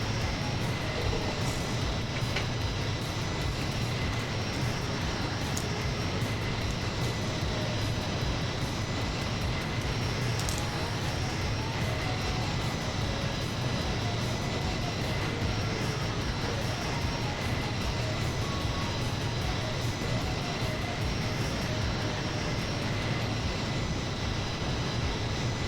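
Steady, loud drone of C-17 Globemaster jet engines in Microsoft Flight Simulator, a continuous broadband roar holding even for the whole stretch with no voices over it.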